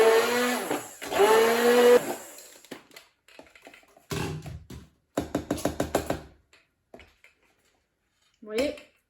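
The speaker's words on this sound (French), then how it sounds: "Hop, et un petit coup de mixeur." A kitchen blender whirs in two short, loud pulses blending raw mushroom soup, followed by knocks and taps of the jar and utensils, with a brief spoken word near the end.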